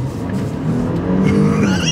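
A 2024 Porsche Cayenne base model accelerates hard, its engine note climbing steadily and loudly from inside the car.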